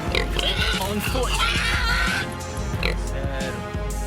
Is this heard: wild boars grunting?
yes